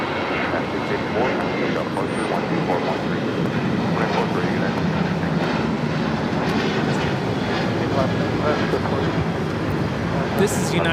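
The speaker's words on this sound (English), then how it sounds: "This is United Airlines 684 taking off to Seattle on the 737-800." A United Airlines Boeing 737-800 takes off at LAX, its jet engines producing a broad, steady roar that holds loud and constant, with talk faintly underneath.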